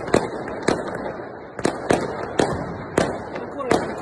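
New Year's Eve fireworks at Ostia Lido near Rome, a string of sharp, fairly close bangs and crackles going off every half second or so over a continuous outdoor rumble, with faint crowd voices in the background.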